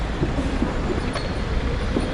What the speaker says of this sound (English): They just built a high-speed train line.